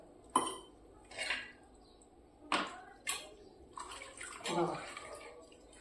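Water splashes off a blackened pan in short uneven bursts as it is scrubbed and rinsed up close, with a faint voice in the background.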